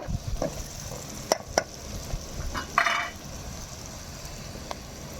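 Chicken pieces go into a pan of flat beans on the stove, with soft sizzling frying and a few sharp clinks and scrapes of a spoon stirring the pot, close up.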